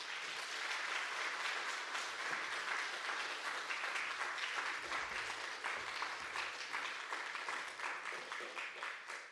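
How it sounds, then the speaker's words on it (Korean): A church congregation at a retreat worship service applauds in welcome, a dense, steady clapping that fills the room throughout. "나오실 때 박수로 환영하면 좋겠습니다."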